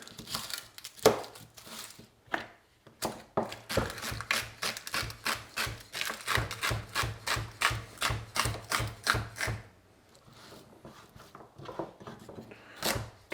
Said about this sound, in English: chop it up into whatever sized pieces